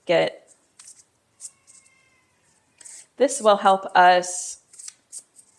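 A Tarot Sidekick card deck gets shuffled in short, soft riffling bursts near the microphone, with a person talking partway through.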